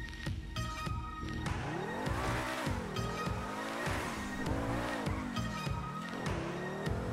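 A fast car in GTA 5 races along, its engine whining up and down through gear changes with squealing tires and skids, loud and close with no talk.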